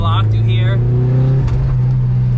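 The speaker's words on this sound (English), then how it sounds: "I got that famous turbo surge." Turbocharged Mazda Miata with a blocked blow-off valve, making turbo surge: a loud, steady engine drone with a fluttering, choppy edge, close up and continuous throughout.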